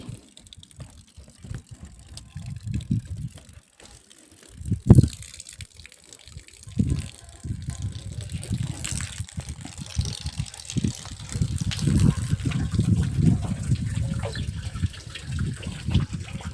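Steady rushing water flows continuously, swelling and easing in strength, with occasional louder bursts and faint voices in the background.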